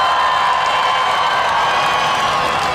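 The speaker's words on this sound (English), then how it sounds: "let's do a cheer off between Jack and Chris" A monster truck fair crowd cheers for a driver in a steady, dense, continuous roar of voices and whoops.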